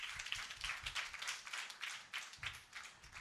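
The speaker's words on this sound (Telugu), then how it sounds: "బయట అందరు కూర్చున్న వాళ్ళకి క్లాప్స్ కొడుతున్నాను నేను" Hands clap in a steady repeating rhythm at a church prayer gathering, faint and somewhat distant, with a short pause near the middle before the beat resumes.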